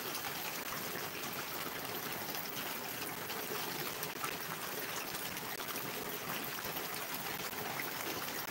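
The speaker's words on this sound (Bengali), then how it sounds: "এইভাবে বৃষ্টি হতে থাকলে পানি উঠে যাবে প্রায়" Rainwater runs and trickles steadily outside during heavy rain, a constant faint wash of flowing water with no breaks and no voices.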